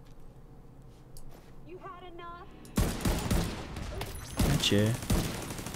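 Heavy gunfire in The Division 2 breaks out after a short quiet stretch, a loud dense fusillade of rapid shots. Someone speaks briefly before and during the shooting.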